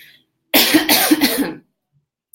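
A burst of several harsh coughs in quick succession, close and loud, with silence before and after.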